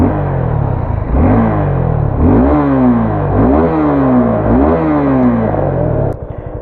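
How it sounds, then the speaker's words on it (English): A 2022 Suzuki Gixxer 250 motorcycle with an oil-cooled 250cc engine, loud and close, idling and then revved repeatedly in rising and falling sweeps before dropping back to a rough idle. "Let me just show you how this bike sounds."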